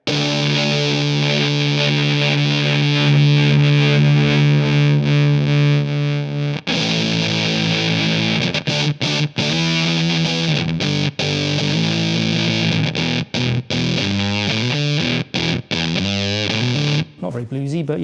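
Electric guitar driven through a fuzz pedal in a side-by-side test of three fuzz units: a sustained thick, saturated chord, then choppy riffs with brief gaps, loud and close, with no talking over it.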